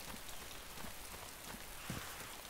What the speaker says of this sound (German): jetzt kann das Regenwetter uns mal gerne haben hier